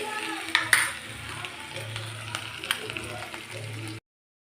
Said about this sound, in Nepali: यहाँ चाहिँ म दाल झान्नु लागेको छु। पाँचफोरन हालेर अनि अदुवा लसुनको पेस्ट हालेर।